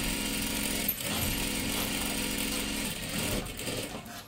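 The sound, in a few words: sewing machine stitching a sleeve band onto a dress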